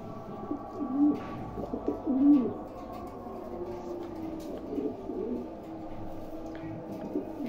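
A pair of black racing homer pigeons in a loft coo softly, with a few low, rounded coos near the start over a quiet, steady background.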